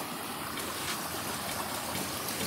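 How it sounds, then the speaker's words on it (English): A river near a spring in Port Antonio, Portland, Jamaica, flowing with a close, continuous broadband rush and gurgle, steady and unbroken with no voices. "Alright, this is the river."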